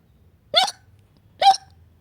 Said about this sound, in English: Suddenly, Peppa starts to hiccup.